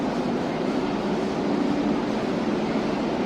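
Steady broadband rumble of a train standing at platform 14 of Sealdah station, Kolkata, a Sealdah–Bikaner AC Duronto Express, droning evenly with no talk.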